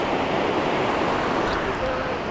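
Clear glacial water of the Shyok River in Ladakh flows in a loud, steady rush, mixed with some wind noise and no clear voices.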